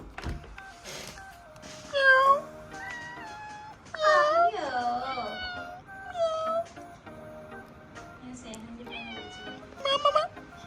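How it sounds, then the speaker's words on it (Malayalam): A neighbour's cat meows several times, drawn-out wavering cries spaced a couple of seconds apart, fairly close, with a person talking in between. "പൂച്ച വന്ന്, നെയ്ബർ പൂച്ച കാണിച്ചു തരാം."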